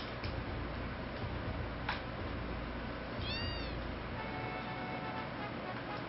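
Kittens meow in the Final Fantasy VII video game, with one short, clear meow rising over a steady low hum of game ambience and a faint click just before it.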